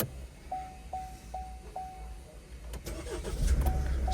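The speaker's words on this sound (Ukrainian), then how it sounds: "Давайте виключимо запалювання, включимо." An Opel Astra K with a climate control fault has its ignition switched off and back on, giving a series of short, evenly spaced dashboard chime tones, a few clicks, then another chime over a low cabin hum.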